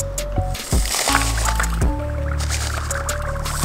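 Dry ice in warm soapy water gives off gurgling, squishing bubbles and soft pops close up, with short wet bursts over a continuous low churning.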